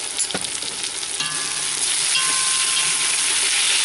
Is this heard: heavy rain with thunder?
no